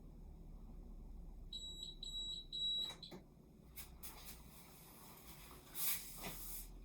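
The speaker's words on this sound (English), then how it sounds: "Turn the alarm off." A smoke alarm beeps six times in a quick, even series, loud and near, during home beer pouring with a glass, followed by clattering and handling noises.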